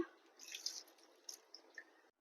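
Water splashes and trickles into a pot for Telangana-style pachi pulusu, a steady liquid pour with bright dripping splashes, close and fairly quiet, ending abruptly.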